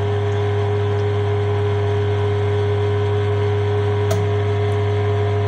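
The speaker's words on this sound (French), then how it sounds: "il va faire le vide dans l'amortisseur" A vacuum pump draws the air out of a Honda KYB shock absorber, giving a loud, constant electric hum with steady whirring tones and one brief click partway through.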